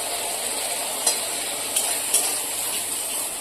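A mustard and poppy seed paste is stirred in a pan with a splash of water, giving a steady close sizzle broken by three light spoon scrapes.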